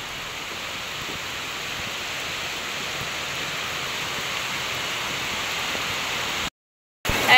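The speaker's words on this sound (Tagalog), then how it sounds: "talaga po nalakas ang ulan" Heavy rain pours down in a dense, steady hiss throughout, loud and unbroken, before a brief dropout near the end.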